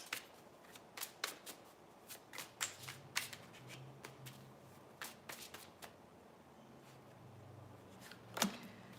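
Tarot cards are shuffled and dealt during a reading, with soft, quiet papery riffles, flicks and snaps scattered irregularly, faint and close, with a single crisper snap near the end.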